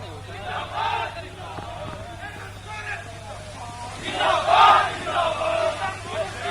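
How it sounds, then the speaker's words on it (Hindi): A crowd of Jharkhand Mukti Morcha supporters celebrating a Ghatshila by-election win chants slogans while entering a building, rising surges of shouted voices over a steady low hum, with nearby talk mixed in. "सभी जो है अपने अपने नारा लगाते हुए भीतर प्रवेश कर रहे हैं"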